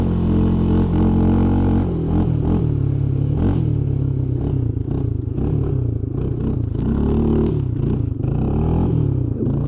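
A small engine on a $100 quad ATV runs through snow, its uneven putter rising and falling with throttle changes, mixed with clatter and scraping, steady and close.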